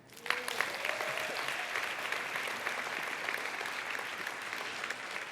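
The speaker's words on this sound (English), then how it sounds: "please join me in a round of applause for Farhana" A conference audience claps for a group of presenters, a full and steady round of applause from a sizeable crowd that starts briskly and carries on evenly for several seconds, with a faint voice or two early on.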